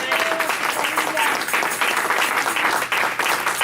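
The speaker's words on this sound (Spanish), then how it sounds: "Denle palmas fuertes al Señor." A church congregation claps loudly and continuously, a dense wash of hands filling the room without pause.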